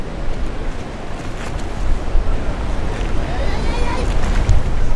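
Strong ocean waves surge near the Arch of Cabo San Lucas, a continuous churning wash with wind buffeting the microphone, mixed with the low rumble of a boat at sea.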